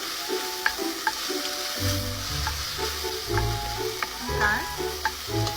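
Garlic and chicken sizzle in a pan while being stirred for marry me chicken. A soft, steady fry runs throughout, broken by scraping utensil strokes and occasional clicks against the pan.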